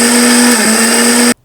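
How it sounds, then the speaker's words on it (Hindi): An electric blender grinds garlic, salt, dried red chillies, green chillies and coriander for Rajasthani garlic chutney, a loud, steady whirring drone that runs without a break and then cuts off abruptly. "सब चीज़ों को डाल के अच्छे से पीस लूँगी मैं इसको।"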